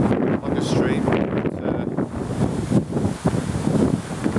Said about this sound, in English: I bet it's really windy on the camera because it's blowing a bit of a gale here